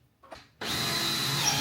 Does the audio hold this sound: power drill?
yes